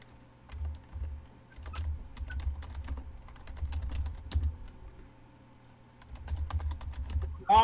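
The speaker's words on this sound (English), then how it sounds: "Sorry, I'm typing to Gamesh right now" Steady close-up typing on a computer keyboard, a busy patter of key clicks running for several seconds with brief pauses, heard during a tabletop Dungeons & Dragons session, with a low hum underneath.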